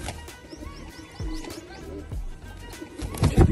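Pigeons of a prized Punjabi breed coo in short, low, repeated calls close by, with faint chirps around them and a brief clatter near the end.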